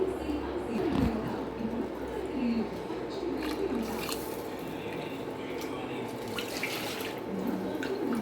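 Water pours into a pot of Palakkad-style Vishu rice porridge (kanji), a steady watery rush lasting several seconds, with pigeons cooing faintly in the background.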